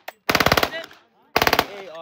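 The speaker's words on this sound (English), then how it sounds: "AR Browning automatic rifle." A Browning automatic rifle fires two quick bursts of about seven and six shots, loud and close, with a short pause between them and a brief ringing echo after each burst.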